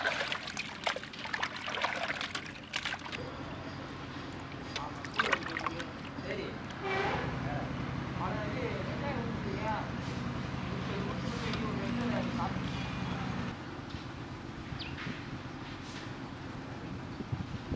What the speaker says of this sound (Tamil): தூள் போட்டு கழுவுறோம்.